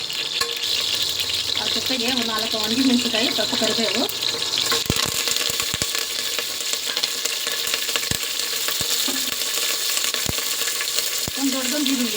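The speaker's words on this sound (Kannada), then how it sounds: "ಇದಕ್ಕೆ ಸ್ವಲ್ಪ ಸ್ವಲ್ಪ ಒಂದೆರಡು ಮೂರು ಎಣ್ಣೆ ಹಾಕೋಣ ಕಾಳು ಒಗ್ಗರಣೆಗೆ" Oil sizzling and frying in a pan as seeds are added for a South Indian tempering, a steady close crackle with stirring scrapes and a few sharp clinks, while a voice talks briefly early on.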